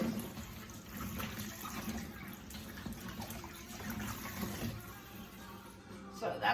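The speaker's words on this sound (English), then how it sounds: "I'm going to rinse them off again just to make sure" Harvested potatoes are rinsed in water with steady splashing, sloshing and running water, close and fairly quiet, with faint background noise throughout.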